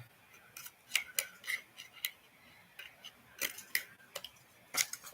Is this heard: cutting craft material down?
yes